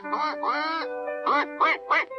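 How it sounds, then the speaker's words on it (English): Loud, harsh quacking from ducks on a pond nearby: two drawn-out squawks followed by a quick run of short, agitated quacks. "Then Simon heard an angry quacking and went to the duck pond."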